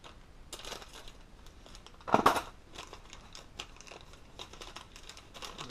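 Scissors snipping through material while a brushless electric conversion is fitted to a Losi 2.0 RC car, one short crunchy cut standing out above quiet handling noise.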